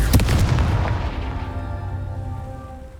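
A Confringo fire spell bursts in Hogwarts Legacy near a castle ruin, a loud booming blast with a sharp onset whose rumbling tail slowly fades over a few seconds, with no voices over it.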